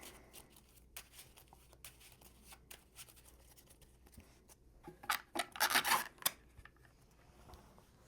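A deck of playing cards for a card game is shuffled quietly at close range, with soft rubbing and riffling that swells into a louder flurry of shuffling near the end.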